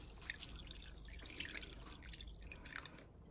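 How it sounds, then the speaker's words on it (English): Water is poured into a pot of cholent stew ingredients, giving a faint, steady trickling and dripping splash at close range with no talk. "And then I'm gonna pour water until it just about covers it."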